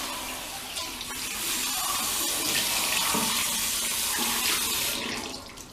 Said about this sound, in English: Wash your hand with the water.